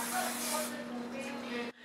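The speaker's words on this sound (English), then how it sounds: "you can use this cooking spray to spray the bottom of your pan" Cooking spray hisses onto the bottom of a baking pan, a close, steady aerosol spray lasting under two seconds and cutting off abruptly at the end.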